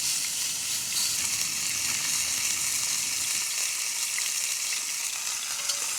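Food fries in a hot pan, spitting and hissing in an even, unbroken sizzle heard close up with no voices.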